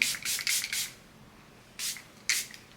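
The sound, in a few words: spraying powder melt setting spray on face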